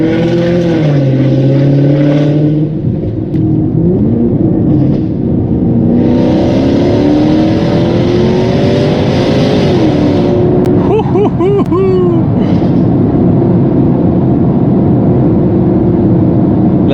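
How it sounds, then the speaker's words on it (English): A Range Rover L322 with a 5.0 supercharged V8 revs on a dirt road, a loud, deep engine note rising and falling through several pulls, with a voice briefly heard over it. "There is just nothing like a V8."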